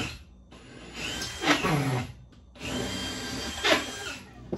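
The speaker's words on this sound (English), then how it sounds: "take my extremely long drill bit" A power drill fitted with an extremely long bit bores pilot holes while framing a bedroom closet, two whining bursts each ramping up and slowing, separated by a short pause, close and loud.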